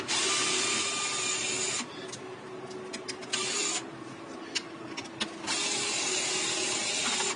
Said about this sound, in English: I'm using a powered screwdriver, but be very careful if you do use a powered screwdriver